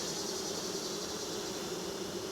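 Honeybees buzz inside an open hive during a nectar dearth, a dense, continuous droning hum, close and steady, with no voices.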